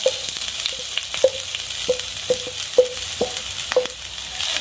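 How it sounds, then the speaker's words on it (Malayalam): Steady oil sizzle from grated coconut frying, with a run of sharp metallic clinks from a spoon stirring the pan at a fairly even pace. "നല്ലപോലെ നല്ലതുപോലെ ഒന്ന് വറുത്തെടുക്കാം"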